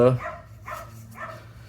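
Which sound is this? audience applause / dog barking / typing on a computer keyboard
dog barking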